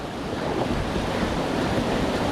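Whitewater rapids rush on Rock Creek during a kayaking run, a loud, broad, continuous roar of churning water with wind buffeting close to the microphone and no talk.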